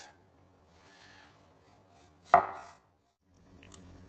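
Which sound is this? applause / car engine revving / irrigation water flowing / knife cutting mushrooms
knife cutting mushrooms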